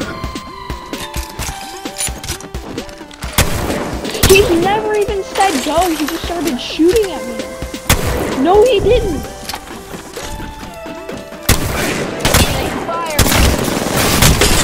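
Gunfire in a shooting video game, bursts of rapid shots and crashes with game sound effects, heard under excited player talk.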